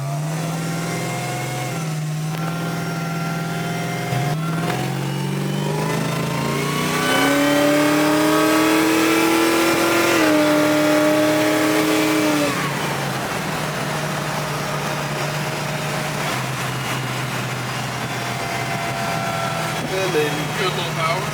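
A supercharged Chevrolet LT4 engine with a small 1.7 liter blower, swapped into a 1971 Chevelle convertible, revs up with a rising supercharger whine over a deep rumble, then settles back to idle. It is loud and close, with someone talking over it.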